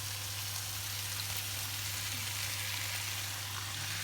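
Onion and chanterelle mushrooms frying in a pan give a steady, dense sizzle that stays even throughout, close up with no voices.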